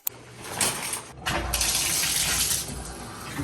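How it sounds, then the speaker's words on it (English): Shower water runs with a steady hiss and spray, starting after a brief knock, dropping out for a moment, then rushing continuously at close range. "So I'm gonna hop in the shower"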